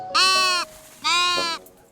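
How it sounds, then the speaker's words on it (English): A sheep in the cozy building game Tiny Glade gives two clear, close bleats, each about half a second long, with a short pause between them. "let's pet a sheep today"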